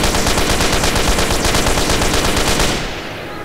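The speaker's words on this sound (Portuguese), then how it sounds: "Porque ele tem uma minigun." Minigun firing in GTA San Andreas during a Joker mission mod, heard as a loud, continuous rapid-fire burst of gunfire lasting about three seconds before cutting off abruptly.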